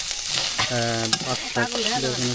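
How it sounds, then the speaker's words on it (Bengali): Food fries in a pan on a village clay stove while jute greens and fish curry are cooked. A steady close sizzle runs underneath louder tuneful music throughout. "ভেজে নিচ্ছি হয়ে গেছে"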